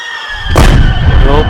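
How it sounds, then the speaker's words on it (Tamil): A firework rocket bursts in a fireworks simulator game: a short whistling rise followed by a loud, close boom that rumbles briefly and then fades. "அவன் வீட்டிலையோ போய் வெடிச்சிருச்சு கைஸ்."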